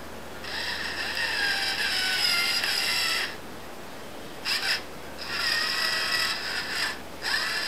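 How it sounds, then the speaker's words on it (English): Threaded pins being screwed into the suspension arms of a nitro RS4 RC car, making close scratchy ratcheting and grinding in two main bursts separated by short pauses. "They have threads on the ends of it, so they just screw right on in."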